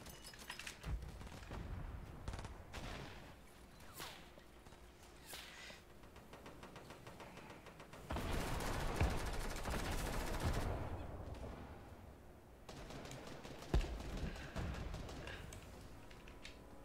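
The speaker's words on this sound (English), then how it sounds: "I kind of want to try this, the infantry rifle" Infantry rifle gunfire in Fortnite Team Rumble, bursts of sharp repeated shots at varying distances, with heavier overlapping volleys of fire from other players in the middle and a loud single crack near the end.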